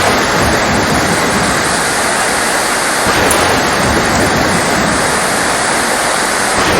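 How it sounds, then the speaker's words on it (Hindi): Heavy rain pours steadily onto an island in a dense, unbroken roar, loud and close for the whole stretch with no voices. "जहाँ पे बहुत तेज़ बारिश हो रही है"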